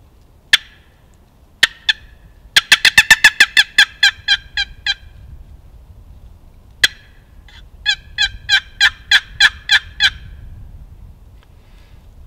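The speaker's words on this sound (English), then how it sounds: "this call to simulate the fly down cackle" A wooden turkey box call works through a fly-down cackle: a few sharp separated clucks, then a rapid run of high clucks, a pause, and another fast series, loud and close with no talk.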